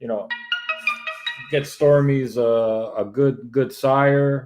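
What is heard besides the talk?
mobile phone ringing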